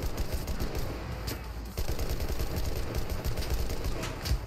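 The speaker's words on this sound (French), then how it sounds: "On prend pas de chance, on tire quand on peut." Dense, continuous gunfire from the video game Enlisted in a zombie horde survival mode, rapid overlapping shots and bursts sounding loud and close throughout.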